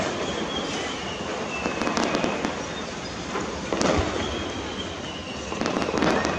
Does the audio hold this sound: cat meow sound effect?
no